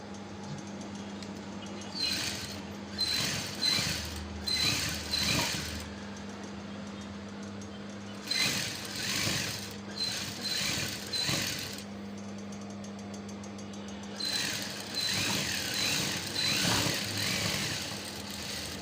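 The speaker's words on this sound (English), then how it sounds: "simply go over to the machine and I will show you how simple it is to sew this cap" Domestic sewing machine stitching the lining onto the top of a native cap, running in three close bursts of steady, rapid mechanical whirring with short pauses between, with a faint low hum throughout.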